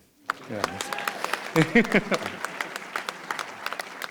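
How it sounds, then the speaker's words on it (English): Film festival opening-ceremony audience in Los Angeles breaks into applause, dense clapping from a large crowd that swells quickly and holds steady, with a few voices and whoops mixed in. "You should clap for that."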